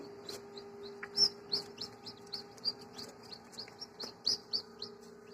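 Newly hatched desi chicks in an incubator give repeated high, thin peeping chirps in an irregular stream over a steady low machine hum.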